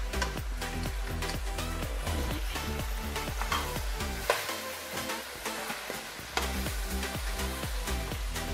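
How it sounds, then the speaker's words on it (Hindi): White chicken biryani mixture of chicken, spices and black pepper being stirred in a pan, with steady frying sizzle, repeated scraping strokes and occasional clatters throughout, close and fairly loud with no talk. "ये देखें इसको अच्छे से मैं मिक्स कर रही हूँ।"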